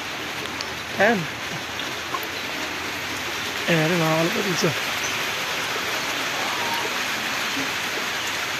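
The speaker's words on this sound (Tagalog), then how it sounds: "Lakas ang ulan eh." Steady heavy rain hisses throughout, with a few bird-like calls and voices briefly heard over the downpour.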